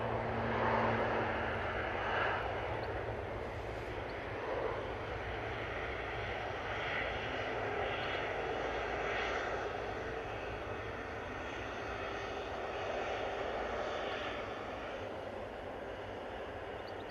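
Etihad airliner departing runway 05 left at Manchester Airport, bound for Abu Dhabi, with a sustained jet engine roar that stays broad and steady, fairly distant, over a faint hum with no talking.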